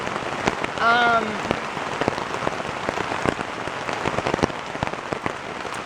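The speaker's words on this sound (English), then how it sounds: "it's been kind of absolutely ruined by this rain" Steady rain drums on a backpacking tent during a flash flood in Red River Gorge, Kentucky, dense patter with occasional louder drops, continuous and close throughout.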